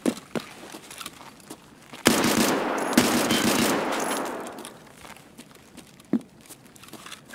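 A burst of rapid automatic gunfire rattles in Escape from Tarkov during a night raid, a dense sustained volley of about three seconds preceded and followed by a few isolated single shots, loud and close.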